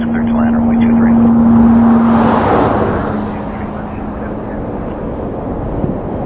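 An Air Canada airliner on landing at Toronto Pearson, a loud steady roar of jet engines that swells and then eases, with a droning tone and a voice speaking over it.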